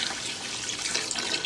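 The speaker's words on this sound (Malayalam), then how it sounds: "ഇനി ഇതിലേക്ക് ഞാൻ ബീഫ് വേവിച്ച വെള്ളം കൂട്ടുന്നുണ്ട്" Beef cooking liquid pours into a pan as a steady, close, continuous splashing stream with no talk.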